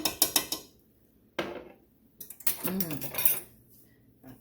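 Ginger and garlic stirred in a pan with a utensil, a run of quick scraping clinks and knocks, a pause, then more clattering strokes, with a voice briefly heard among them.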